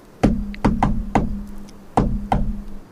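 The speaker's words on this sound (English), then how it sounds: "I'm going to knock on the door." Knocking on a door: six sharp, close raps, a quick run of four and then, after a short pause, two more, each ringing briefly with a hollow wooden tone.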